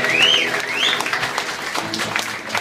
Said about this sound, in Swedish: Stora applåder på AnnaPS!